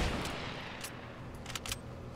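Faint, distant gunshots in Fortnite, a few sparse sharp cracks over a steady low background rumble.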